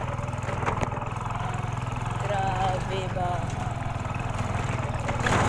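A motorcycle engine runs steadily at close range with a continuous mid-pitched drone, while people talk over it.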